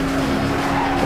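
Loud, continuous tire squeal of a race car skidding in the driving game Need for Speed Hot Pursuit, with engine roar underneath for the whole brief moment and no talking.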